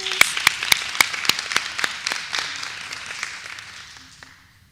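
A small group claps at a school district board of education meeting, sharp separate handclaps at first that thin out and fade over several seconds, fairly close and with no talking over them.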